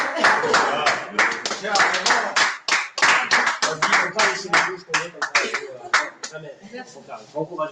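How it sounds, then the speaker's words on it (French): A small audience claps steadily for several seconds, brisk and close, then the applause thins out and fades. "on peut applaudir"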